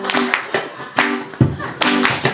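Hands clapping out a rhythm in a group clapping game, sharp claps in uneven bursts under sung chanting voices.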